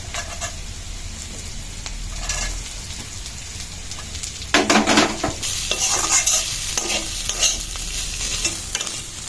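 Grated coconut with ginger and spices stir-fried in a pan for vegetable chop filling: a steady close sizzle broken by repeated scraping stirs, with a louder burst of frying hiss midway. No voices.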